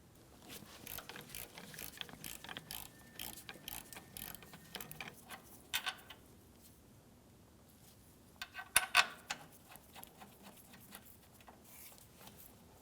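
A ratchet clicks in rapid bursts while loosening an 18mm caliper bracket bolt on a 2007-2014 GMC Sierra 2500 HD rear brake, with a few louder metallic clinks near the end and no talking.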